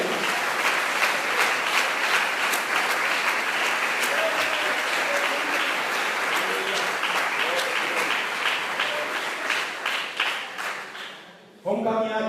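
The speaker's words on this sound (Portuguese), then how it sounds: "aplauda ele, aplauda ele" A church congregation applauds steadily for several seconds, a dense, loud clatter of many hands with voices calling out underneath and a brief bright tone, before the clapping thins and cuts off abruptly.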